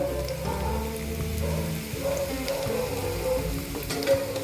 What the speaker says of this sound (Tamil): கேரட்டை நல்லா வதக்கிக்கலாம்